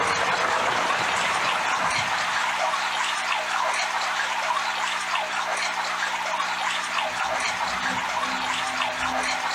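Water sound in a live art performance: a dense, steady hiss of splashing or pouring water, loud and continuous throughout, with no talk.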